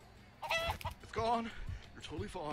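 A chicken in the Minecraft video game clucks in a few quick, choppy bursts, fairly close and mixed with a voice speaking excitedly.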